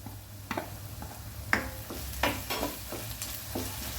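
Ginger garlic paste fries with onions in a pan, giving a soft low sizzle broken by a series of sharp clicks and scrapes from stirring; the sounds are close and quiet, with no voices.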